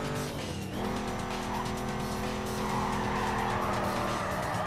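Tires of a Ford Mustang GT squeal in a long continuous skid while drifting through a corner in the racing game Need for Speed Carbon, loud and close over a steady engine roar.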